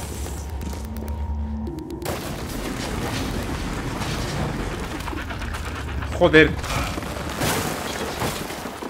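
Gunfire in the sci-fi shooter Prey, with a few scattered booming shots and one sharper burst partway through, all under an ongoing low rumble of game sound while someone talks.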